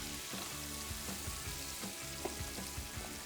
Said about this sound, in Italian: Aggiungiamo le nostre melanzane all'interno del tegame e facciamo stufare le melanzane insieme alla cipolla e all'aglio